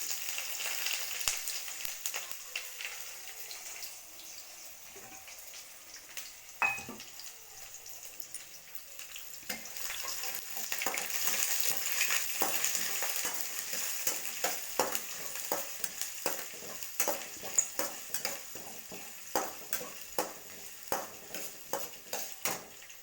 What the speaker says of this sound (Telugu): ఇప్పుడు వేద్దాం ఆనియన్స్. ఈ గోల్డెన్ కలర్ వచ్చేదాకా ఫ్రై చేద్దాం